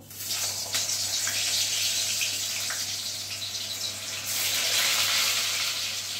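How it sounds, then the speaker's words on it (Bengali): Pointed gourds coated in salt and turmeric fry in mustard oil in a kadai, giving a steady, dense sizzle that swells louder partway through. It is close and continuous, with no talk. "এবার যে নুন হলুদ মাখানো পটলগুলো আমি প্রথমে ভালোভাবে ভেজে নিচ্ছি।"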